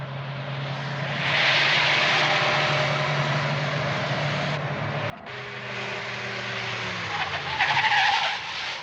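Two cars race at speed in a chase toward the Porte de Châtillon, engines roaring with tire skidding and a sustained loud rush, briefly cut and resuming with a rising engine whine.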